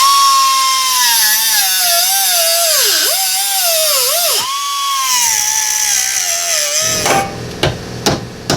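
A power tool whines loudly while notching the fender area of a 2011 Jeep Grand Cherokee, its pitch dipping and recovering under load, then giving way to several sharp hammer-like knocks.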